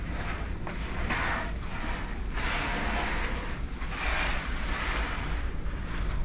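Sea waves wash steadily outside a seaside bedroom, a broad surging hiss with gentle swells and some wind buffeting the microphone, no voices.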